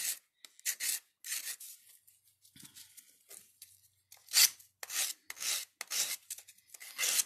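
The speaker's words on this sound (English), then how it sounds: "space between the lobes of the heart is a little bit hard to get your sand stick in there, but it can still get sanded okay" Sanding a metal heart ornament by hand with a sand stick, working into the tight space between the lobes: repeated short, scratchy rasping strokes in an uneven rhythm, close up, with brief pauses between passes and no talking.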